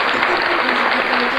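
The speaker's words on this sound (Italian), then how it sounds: "Dai, incoraggiamo Zucchi con un bel applauso!" Sustained applause from a crowd in the eFootball video game, a steady dense clapping wash with a voice faintly mixed in.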